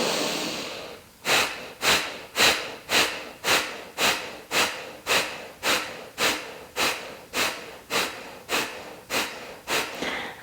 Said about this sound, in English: for fire breath, you push out old air as if you're blowing your nose